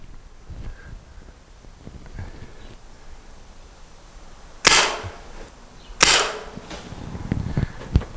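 A Salt Supply pepper spray gun is fired in a burst test. After quiet shuffling and faint handling noises come two sharp, loud shots about a second apart, followed by a few softer clicks.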